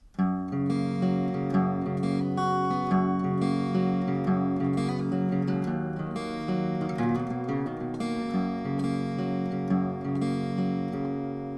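A guitar plays the steady chordal intro to a song, strummed notes ringing together at moderate volume with a continuous, even rhythm and no voices.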